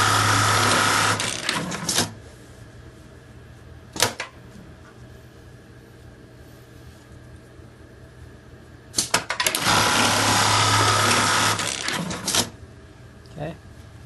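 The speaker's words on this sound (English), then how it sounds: "I'm just going to lay them under here now and sew them without worrying about a pocket." Embroidery sewing machine stitching names onto an emblem, a loud continuous mechanical whir in two long runs with a quieter stretch between, plus brief clicks; speech briefly present.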